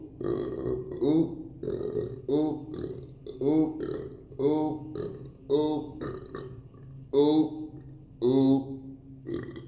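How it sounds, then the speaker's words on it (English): A run of loud, drawn-out burps from one person eating a hot and spicy fire wok meal, repeated in rhythmic bursts of about one per second across the clip, close and voiced with a grunting quality. "I ain't never burped like that before."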